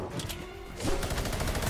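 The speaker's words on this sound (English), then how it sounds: "I'm getting shot by two people, dude" Gunfire in a video game shooter, a burst of rapid shots that grows louder and denser halfway through, with no talk over it.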